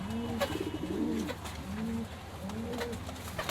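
Giribaz pigeons on a Rajshahi pigeon farm coo in soft, repeated rolling phrases, close by, with a few faint chirps in between and no talk over them.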